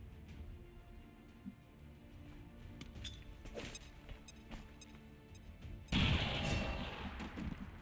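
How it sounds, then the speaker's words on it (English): A grenade detonates in the turn-based strategy game XCOM 2: War of the Chosen, a sudden loud broadband blast that bursts in partway through and rumbles on, following quieter game ambience with scattered clicks and thuds. "Let's just secure the kill with the grenade toss on this heavy."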